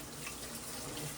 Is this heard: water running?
yes